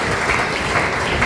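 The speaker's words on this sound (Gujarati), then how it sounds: "આપણે સૌ તેમનું તાળીઓથી સ્વાગત કરીએ" A crowd at a gathering of a residential institution claps steadily to welcome guests, dense and fairly loud throughout, with no speech over it.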